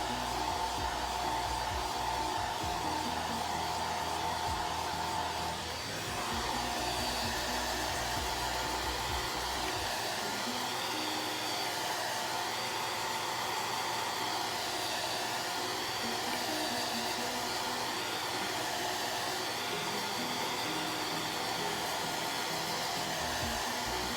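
A handheld dryer blows hot air over wet chalk paste on a craft project. It gives a loud, continuous whooshing roar with a brief dip in pitch partway through, and no voices can be heard.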